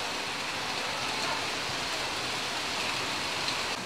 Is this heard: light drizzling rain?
yes